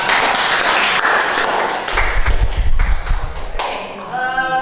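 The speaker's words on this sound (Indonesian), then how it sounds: "sebelum ada tanggapan kita beri tepuk tangan dulu untuk kelompok A" Classroom clapping for a student group during a math lesson, brief uneven applause with some thumps and taps, trailing off into quieter room noise near the end.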